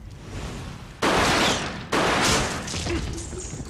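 Gunfire at leeches in Resident Evil 0: two heavy bursts a second apart, each a loud broadband blast that decays into a noisy rumble, with faint creature sounds after.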